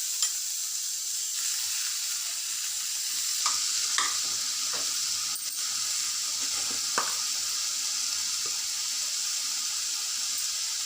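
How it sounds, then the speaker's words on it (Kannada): Tomatoes frying in a pan for palak dal under a constant bright hiss, with a few faint scrapes and taps of stirring scattered through it. "ಇದಕ್ಕೆ ಟೊಮೆಟೊ ಹಾಕ್ತಾಯಿದ್ದೀನಿ."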